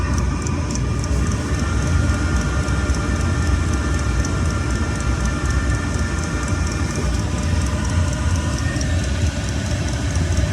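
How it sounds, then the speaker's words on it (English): Chinese 2 kW diesel air heater running with its fan at top speed, a loud, steady, close droning roar with a rapid combustion rumble and a faint high whir, constant and unbroken throughout, with no talking. "Come back when it gets up to top speed. Fan's kicking in now."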